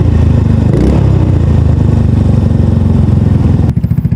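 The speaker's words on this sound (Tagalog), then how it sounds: "So sound check natin guys, na nilagyan natin ng silencer yung pipe ni MIUI." A Yamaha Mio i 125 scooter fitted with a DIY exhaust silencer runs loud and close, its engine putting out a steady throbbing rev before dropping to a pulsing idle near the end.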